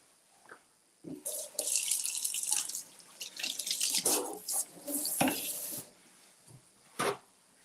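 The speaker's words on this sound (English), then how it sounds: "let me wash my hands" Hands are washed under a running kitchen tap before cooking. The water rushes and splashes in several bursts, with quieter gaps between them and a short final gush. It is close by, and no one talks.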